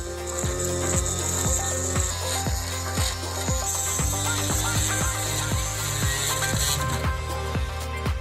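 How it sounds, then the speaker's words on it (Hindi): A thin drill bores into a metal lock cylinder, a steady close grinding whine with repeated rhythmic catches and clicks as the bit bites, continuous and loud without any voices. "अब चलो एक पतली ड्रिल लेते हैं और सिलेंडरों को ड्रिल करना शुरू करेंगे।"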